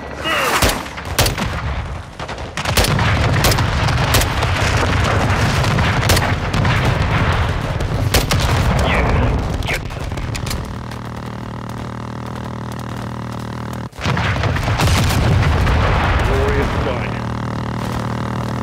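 Air strike in Call of Duty: Modern Warfare 2, heavy rolling explosions and booming artillery mixed with gunfire, with radio chatter and talk running throughout and a deep engine drone underneath.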